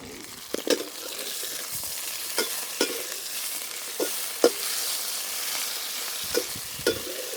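Pork belly adobo sizzles steadily in a wok outdoors while chopsticks turn the pieces, adding a scattering of light scraping and clacking taps over the constant close frying hiss.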